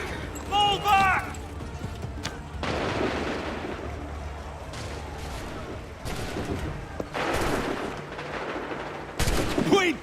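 Musket volleys crackle in Assassin's Creed III, a battle with several bursts of gunfire spread across the scene, mixed with shouting soldiers and hoof-like clatter, loud and dense rather than isolated shots.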